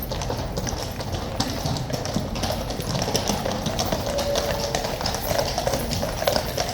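Horses of the King's Guard clip-clop on a road in a steady, dense patter of hooves, close and continuous, with faint background voices.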